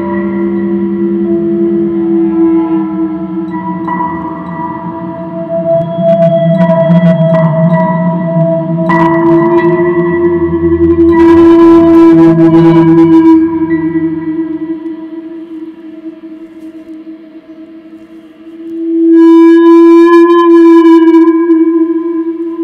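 An electric guitar through a DOD FX69 distortion pedal imitates whale calls with long, sustained, sliding feedback tones that swell and fade, ending in a loud, bright held note.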